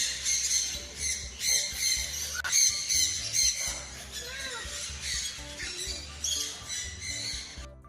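A bird at a pet-friendly resort in Bangalore squawks while husking and eating grain, giving repeated shrill, chirpy calls at close range over a steady background, with voices faintly present.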